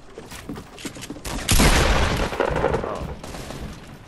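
FAMAS rifle fire in a video game, a loud burst of rapid shots around the middle of the clip, followed by a rumbling tail and fainter background game noise.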